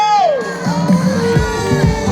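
A crowd cheers and whoops at an outdoor concert by the pump room in central Truskavets, with a loud voice shouting over the lively, close-sounding cheers.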